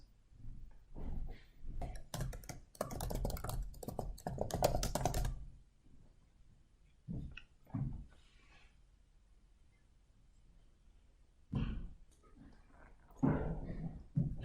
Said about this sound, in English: So here I would type in 1457.